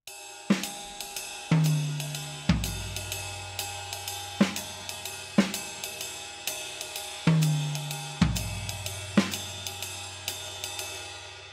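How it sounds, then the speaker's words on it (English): Jazz drumming with a steady cymbal-like ride pattern and scattered low drum hits moving around different drums, played alone at a relaxed swing. "you can place the left hand notes on various drums and it'll sound like this"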